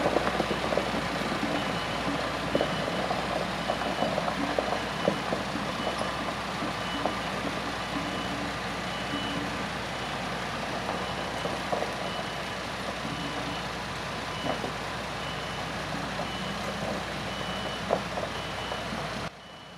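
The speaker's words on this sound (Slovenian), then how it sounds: "Navadno je treba tovornjak še obrniti" A MAN TGS 33.510 truck turning around on a forest road, its reversing alarm beeping at a steady pace over a low engine rumble, heard from a distance.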